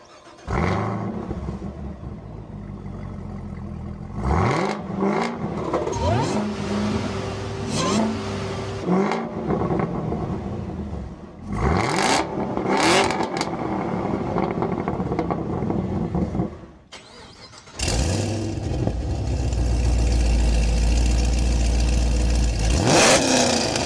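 A supercharged Chevrolet Camaro ZL1 V8 revving hard several times, the exhaust rising and falling in loud roaring sweeps, with short pauses between blips and a sustained roar at the end.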